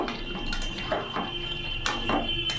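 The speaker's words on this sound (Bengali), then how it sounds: "এবার ভেজে রাখা পনিরগুলো আমি দিয়ে দেবো" Fried paneer pieces tipped into a pan of simmering mixed vegetables and boiled potatoes on a gas stove, heard up close as a handful of sharp metal clinks and scrapes of a spoon against the pan over a steady low cooking hiss.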